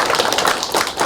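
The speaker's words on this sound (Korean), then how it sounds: "우리 저기 과장님들 수고하셨는데 박수 한번 보내주시죠" A briefing audience gives a brief round of applause for the department heads, dense overlapping clapping close and loud for about a second.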